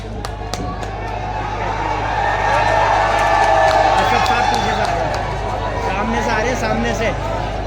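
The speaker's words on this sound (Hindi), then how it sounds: "शादाब साहब जोरदार तालियों से इस्तकबाल कीजिए" A crowd at a political rally for the Majlis party in Mustafabad claps and cheers in a swelling wave of applause and shouts, with a loud voice over a speaker system talking through it.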